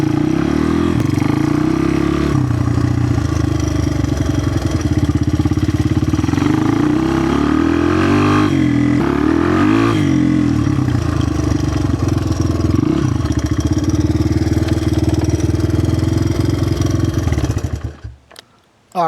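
Honda XR200R dirt bike with a slipping clutch, ridden hard, its engine revving loud and close in a steady, sustained drone with rising and falling pitch, ending in a sharp cutoff.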